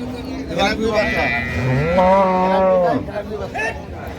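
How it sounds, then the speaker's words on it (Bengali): A cow and calf moo at a busy cattle market, with a long, drawn-out low moo in the middle and shorter calls around it, heard close over a background of crowd chatter and talking voices. "গাভী বাছুর আমরা দেখছিলাম।"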